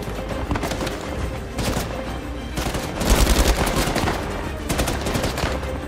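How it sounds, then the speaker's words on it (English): Rapid gunfire in the video game Uncharted 4: A Thief's End, with dense bursts of automatic shots and sharp single cracks crowding the scene, loud and close, strongest in a heavy volley just past the midpoint. "Now, who else is shooting at me?"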